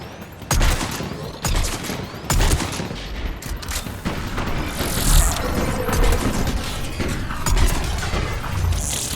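Bursts of covering gunfire in Mass Effect 3 ring out in loud, close volleys with sharp cracks and rumbling booms, separated by short gaps and set against a constant battlefield roar.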